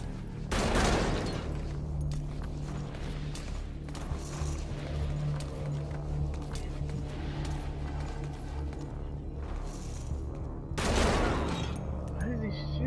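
Gunfire in Metal Gear Solid 5: The Phantom Pain, two loud shot bursts near the start and end with scattered quieter shots and a steady low hum between, under occasional talk.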